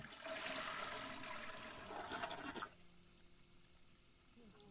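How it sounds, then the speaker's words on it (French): In The Sims 4, a toilet flushes with a loud rushing gush of water that cuts off abruptly after a few seconds, leaving a quiet trickle. "il a arrêté son pipi pour aller chercher un bouquin pour ensuite tirer la chasse d'eau"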